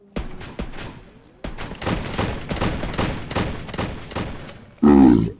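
Rapid rifle fire in the Roblox game Deadline, a steady run of dense, loud shots for several seconds ending in a heavier burst, with no talk.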